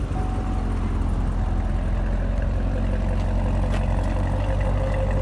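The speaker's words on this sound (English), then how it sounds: "you know what I like about this exhaust?" Exhaust of a 2017 Corvette Stingray Z06 rumbling steadily at idle, a loud, continuous low drone heard up close with no talking.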